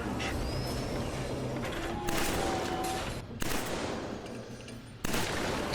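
Assault weapon gunfire in a video game streamed over PlayStation Now, sharp bursts of shots cutting in at intervals over a constant noisy battle backdrop, with an electronic whine drifting through.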